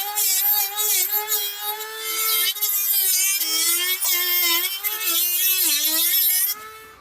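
A rechargeable Dremel spins a fiberglass-reinforced cutoff wheel at high speed, a steady high-pitched whine that wavers in pitch as it bears into the material, sounding alone until it winds down at the end.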